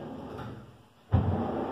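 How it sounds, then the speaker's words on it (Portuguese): A wardrobe drawer on telescopic slides opens or closes with a soft sliding rush followed by a muffled thump, a single close movement in a quiet room. "Gavetas com telescópica."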